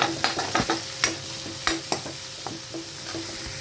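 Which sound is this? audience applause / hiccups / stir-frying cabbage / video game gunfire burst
stir-frying cabbage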